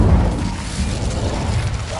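Fire spell cast in Hogwarts Legacy: a low, rumbling boom that swells and rolls on as a steady, muffled fiery roar for a couple of seconds, with no voices.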